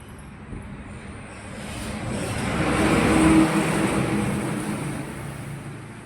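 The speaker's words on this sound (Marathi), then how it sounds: "ह्या बघा गाड्याच गाड्या सगळीकडे गाड्या जत्रेपेक्षा गाड्यांचीच गर्दी" Heavy road traffic crowds the road near a village fair, a steady broad rumble of passing vehicles that swells to a peak midway before easing slightly, with no talk.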